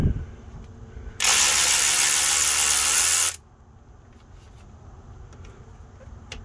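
A power tool buzzes loud and continuous for about two seconds while removing rear axle bolts on a 1998 GMC truck, then stops, leaving quiet background.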